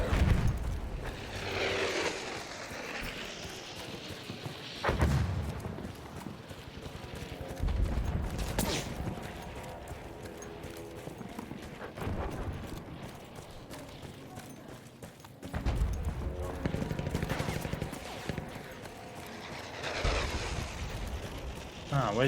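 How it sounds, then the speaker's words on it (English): Battlefield 1 combat with repeated bursts of enemy gunfire, loud and close, broken by heavy impacts and explosions over a steady rumble, with a voice talking through it. "I'm still being shot at, which is hilarious."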